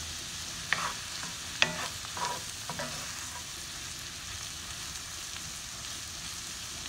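Organic mushrooms cook down in a pan with a soft, steady sizzle. A few sharp clicks of stirring come early, then the quiet hiss carries on alone with no voices.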